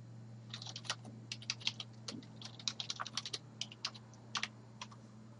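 Password being typed on a computer keyboard: close, irregular bursts of crisp key clicks with short pauses, over a low steady electrical hum.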